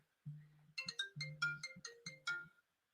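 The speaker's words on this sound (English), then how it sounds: "I got a phone call" A phone ringtone for an incoming call plays alone, a bright melodic electronic tune of rapid stepped tones with a low droning undertone, lasting about two seconds and fairly quiet.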